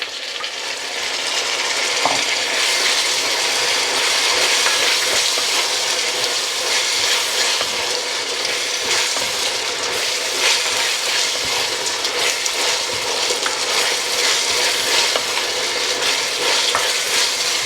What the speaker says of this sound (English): to that I'm now going to add all of the fresh tomatoes.